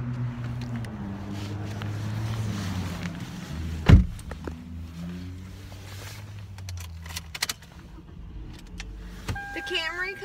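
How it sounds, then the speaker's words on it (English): A 2010 Toyota Camry LE starts up with a sharp crank burst, then settles into a low, even idle with a few faint clicks and a distant mechanical whir afterward. "let's go ahead and start it up and see how it sounds"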